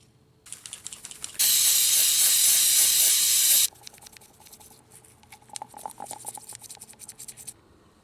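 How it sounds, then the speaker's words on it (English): Cleaner sprays in one steady, loud hiss for about two seconds onto the throttle body of a Pontiac Grand Am, set between light tapping and clicking sounds of work on the car. "Right now, I'm gonna clean this throttle body."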